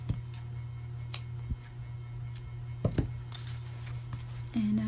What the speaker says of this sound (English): So I'll just snip this off,